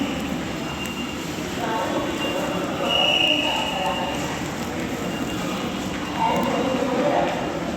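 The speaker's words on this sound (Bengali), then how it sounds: "মেট্রো রেলের পরিবেশটা দেখুন" A metro rail station bustles with a constant low rumble of trains and crowd murmur, while muffled voices and a recorded announcement sound over the steady din.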